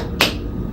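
A single sharp hand clap in a group clapping game, one crisp slap standing out over a low background hum.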